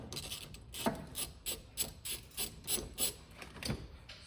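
A 14 mm bolt on a 2015 Kia Soul seat belt being unscrewed with a ratcheting tool, giving a steady series of close, dry rasping clicks about every third of a second, with no talking.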